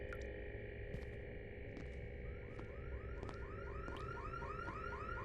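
A car alarm in a video game, its repeating warbling chirps sweeping upward in a quick regular pattern, moderately faint against a steady hum with a few sharp clicks.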